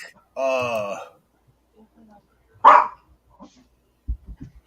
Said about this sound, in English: Our dog's barking.